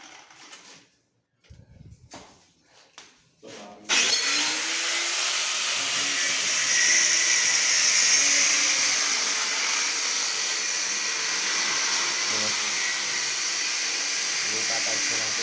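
A few short bursts of talk give way to a loud, steady, high-pitched whine as an angle grinder cuts floor tiles, continuing without a break to the end.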